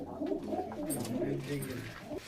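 Pigeons coo softly in a pigeon loft, with low, rolling, overlapping calls that go on throughout. The birds sound close, and nobody talks over them.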